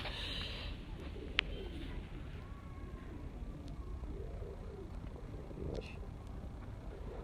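A large pigeon of the Sharmila breed coos softly at close range, a few low rolling calls set in a faint outdoor ambience.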